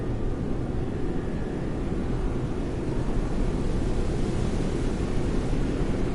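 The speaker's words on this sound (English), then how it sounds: "We have liftoff." Rocket liftoff in the video game Deliver Us The Moon: a loud, dense, continuous roar of engines that holds steady without pause throughout.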